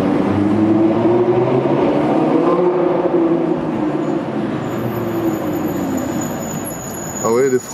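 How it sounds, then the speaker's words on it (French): An Audi RS6 in a tunnel gives off a loud, wavering brake squeal over steady road and engine rumble, with a thin high whine coming in toward the end. "Ah ouais, les freins grincent beaucoup."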